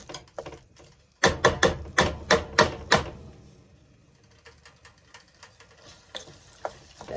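Jamaican beef patty filling is stirred in a pan: a quick run of sharp, rhythmic scraping strokes, then quieter scattered scrapes and a faint sizzle underneath.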